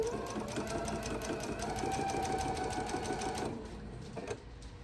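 A home sewing machine stitches quilt pieces for a seaside quilt block, a steady rapid mechanical whir with fast needle pulses running close and loud for several seconds before easing off near the end.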